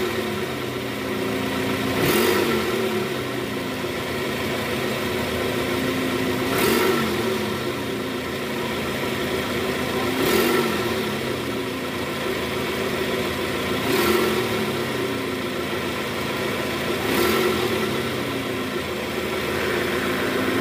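A Toyota Camry with a replaced balancer shaft idles in reverse gear with the air conditioning on, a steady close engine drone broken by regular brief surges every few seconds.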